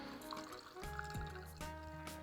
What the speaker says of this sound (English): just a little gentle stir after we top up with the soda water